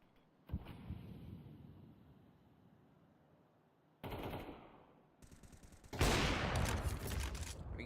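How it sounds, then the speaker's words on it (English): Gunfire in a Counter-Strike pro match between XI and Astralis Talent in the European Pro League: a short early burst, then quiet, then sharp rapid volleys that grow louder and denser toward the end. "Nice shots coming through from XI."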